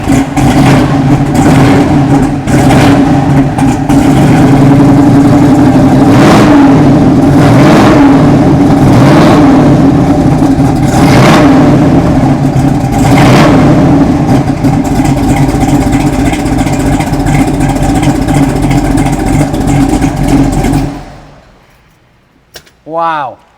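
A nasty-sounding GM big block engine in a car fires up close by and revs hard in repeated throttle bursts over a loud, rough idle for about twenty seconds, then shuts off abruptly. People talk over the engine noise.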